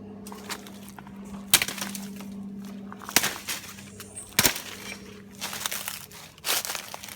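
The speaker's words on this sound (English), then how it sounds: "We turn to the left here, where all these panna trees are. Just cut that one off." Dense panna tree vegetation is hacked and snapped while clearing a hillside trail, giving several sharp cracks and crunches with rustling between them, close and moderately loud against a quiet outdoor background.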